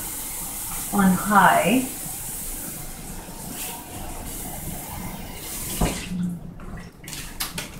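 Water pours into a cooking pot in a short gurgling splash burst, close and moderate, followed by quieter kitchen hiss and a brief clatter, with a voice speaking briefly.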